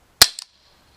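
A single sharp crack from an Umarex Walther P38 CO2 blowback BB pistol, with a quick second mechanical snap of the slide cycling just after, loud and close, fading fast into silence.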